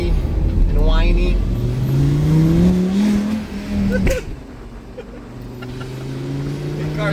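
A salvage Lamborghini Gallardo engine runs with a crunchy, grindy, whiny tone, a loud steady drone with rising whine, a sharp clunk midway and people talking over it.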